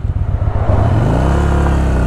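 A Harley-Davidson motorcycle rented in the United States pulls away, its deep, loud engine throbbing in low pulses before settling into a steady rising drone as it accelerates.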